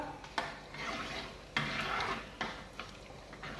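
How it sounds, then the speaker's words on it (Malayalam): Rice being stirred with oil in a cooking pot for chicken biryani: soft scraping and stirring with a light sizzle underneath, and a few sharper knocks of the spoon against the pot, close and fairly quiet. "നമുക്കിതിൽ കുറച്ച് ഓയിൽ ഒഴിച്ച് കൊടുക്കാം ഒന്ന് ഇളക്കി കൊടുക്കാം"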